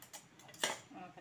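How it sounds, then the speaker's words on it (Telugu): A knife slicing through a fried egg on a plate, giving one brief, close scrape and clink of the metal blade at about the midpoint, surrounded by quiet room noise. "ఎగ్ని కొంచెం కట్ చేస్తున్నారు."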